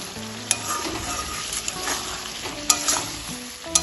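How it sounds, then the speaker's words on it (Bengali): Boiled potatoes frying in oil with salt, turmeric, cumin and coriander powder for a prawn and cabbage ghonto: a loud, close sizzle under brisk stirring, with sharp spoon clicks against the pan. "সব কিছু এবার ভালোভাবে তেলের সাথে কষিয়ে নেব।"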